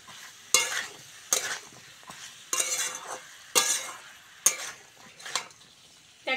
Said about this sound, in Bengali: এইরকম ভাবে মশলার সঙ্গে সবজিগুলো কষে নিয়েছি